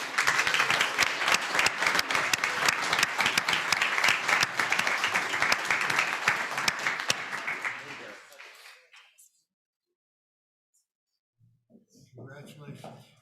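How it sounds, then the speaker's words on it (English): A crowd at a school board of education meeting applauds student athletes and their coach, with loud, dense clapping and some voices mixed in that fades to near silence, then faint murmuring returns. "Another round of applause for our"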